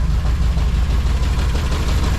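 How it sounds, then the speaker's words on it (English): A car engine idles at about 700 RPM in a low, steady rumble that sits close and continuous, with no voices over it. "Everything's running. Idling 700 RPM."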